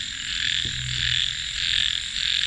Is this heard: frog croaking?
yes